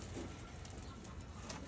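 Racing pigeons coo steadily in a loft, a soft continuous murmur of several birds close by with no talk.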